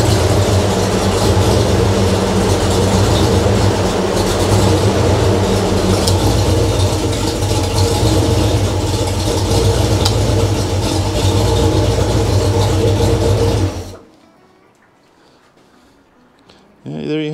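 A Ford SBF 302 small-block V8 project engine runs with an idle surge, a loud, steady low rumble that cuts off abruptly near the end, leaving quiet room noise.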